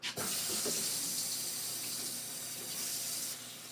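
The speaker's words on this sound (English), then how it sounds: "I'm going to add some water." Tap water runs steadily into a container while milk is being diluted for a freezer meal prep dish, a continuous close hiss lasting several seconds before cutting off near the end.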